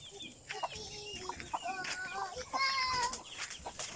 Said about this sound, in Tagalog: So ito yung mga manok.